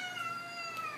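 A cat gives a single drawn-out meow, close and clear, with a slightly whiny, wavering tone lasting about a second.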